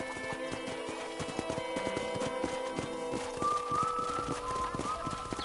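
In the video game Red Dead Redemption, horses trot with a rhythmic clip-clop of hooves and a faint neigh, set against a soft, tonal musical backdrop.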